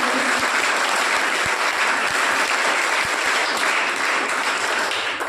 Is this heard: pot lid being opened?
no